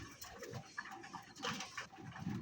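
Pigeons inside a loft at night give soft, low cooing and rustling, faint and close, with quiet shuffling between the coos.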